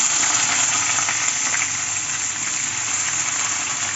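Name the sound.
onion frying in hot oil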